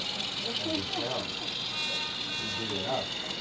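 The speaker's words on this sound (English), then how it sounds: "There you hear the horn." A thin, steady horn tone sounds continuously from a small HOn3 Rapido 44-tonner model locomotive, with a faint murmur of voices and rumble beneath it.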